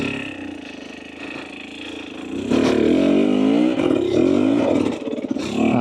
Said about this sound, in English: As you guys can just hear the idle.